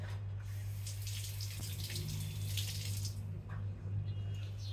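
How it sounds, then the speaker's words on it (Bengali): Water runs steadily from a tap over a raw sweet mango being washed by hand, a close, continuous hiss with soft splashes and a low hum underneath throughout. "আমি এই আমটাকে ভালো করে জল দিয়ে ধুয়ে নিচ্ছি।"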